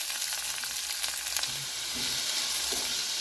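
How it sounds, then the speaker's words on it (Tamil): Chopped onions and green chillies sauté in hot oil in a pan with urad dal and chana dal for idli upma, giving a steady soft sizzle and crackle close by with faint stirring clinks, no voices. "வெங்காயம் நல்லா வதங்கிட்டுருக்கு"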